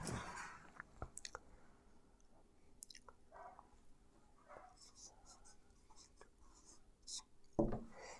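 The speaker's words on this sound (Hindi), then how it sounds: "अब देखो यहाँ लिखेंगे पहले" Pen scratching an equation onto paper during a class 10 maths lesson, in short scattered strokes and taps, fairly quiet, with soft speech in between.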